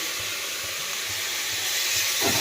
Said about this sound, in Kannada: ಈರುಳ್ಳಿ ಈಗ ಫ್ರೈ ಆಗಿದೆ ಈ ರೀತಿ ಬ್ರೌನ್ ಬರೋವರೆಗೂ ಫ್ರೈ ಮಾಡ್ಕೊಳ್ಳಿ